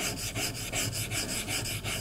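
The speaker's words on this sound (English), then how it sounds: "when I'm sharpening normally, I start on 30 and I push here" Woodworking chisel bevel pushed back and forth on a coarse diamond sharpening plate, a close, loud rhythmic rasping scrape repeating about eight times in quick strokes, with no talking.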